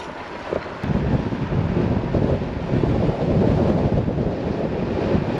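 Strong wind roaring across the microphone during a long-distance cycling ride toward Mont des Avaloirs, a loud, continuous buffeting rumble that swells after the first second and never lets up.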